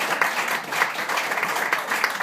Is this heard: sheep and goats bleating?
no